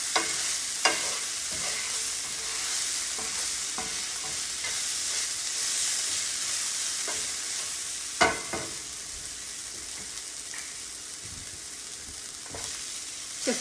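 Bacon sizzles steadily in a pan seasoned with garlic and a little salt, a dense high hiss broken by sharp scrapes and clacks as it is tossed and stirred, loud and close with no voices.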